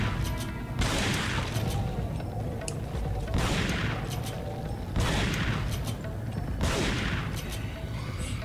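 Shotgun blasts boom in Resident Evil 4, four heavy shots spaced a couple of seconds apart, each a loud broadband crack trailing into a rumble, with clanking and combat noise in between.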